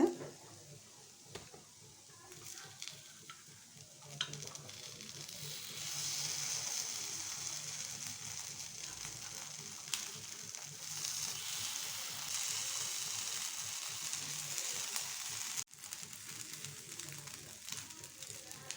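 Paniyaram batter fries in a pan, one side cooked and flipped, giving a steady close sizzle and hiss that grows slightly fuller partway through, with a brief break near the end.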